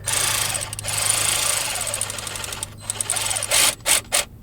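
An impact wrench with a 15 mm socket working on alternator bolts of a Porsche 996 911, a loud rapid rattling hammer that runs steadily, then breaks into several short bursts at the end.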